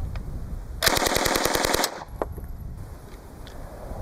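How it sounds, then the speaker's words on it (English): A burst of rapid automatic fire from a MAX-31 Mark II Suomi drum upper receiver, about a dozen closely spaced loud shots in one continuous string lasting roughly a second, then a single later report and quiet outdoor ambience. "To fire the MAX-31 Mark II, pull back on the charging handle, insert a magazine, aim, and fire."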